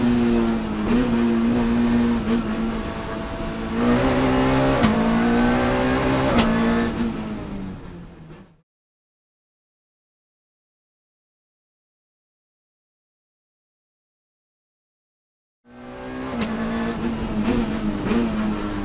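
A Citroën Saxo Kit Car rally car at Thiviers takes a corner with a loud, close engine note that rises and falls through the gears, then cuts to silence for several seconds before the engine roars back.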